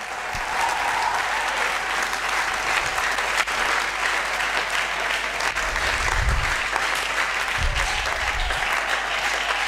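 A church congregation applauds and cheers during a sermon, a steady, loud wash of many clapping hands that continues without a break, with low thumps of music or voices faintly underneath.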